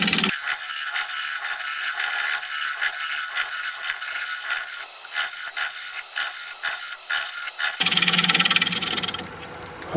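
A steel scraper works a wood turning piece on the lathe, giving a continuous harsh rasping scrape for most of the run that changes to a different grinding texture near the end, loud and close, with no speech.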